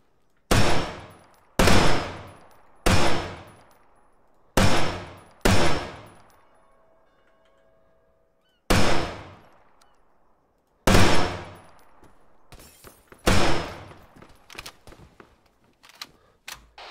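Loud gunfire in a police roleplay video game, heard as a series of sharp single shots spaced a second or so apart, each followed by a decaying echo, ending in a quicker burst of shots.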